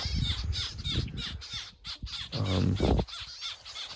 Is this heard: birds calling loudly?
yes